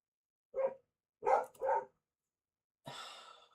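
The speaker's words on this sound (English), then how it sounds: "That damn dog!" A dog outside a window barks in a few separate bursts: one short woof, then a quick pair, then a longer breathy one. The barks sound faint against near-silence between them.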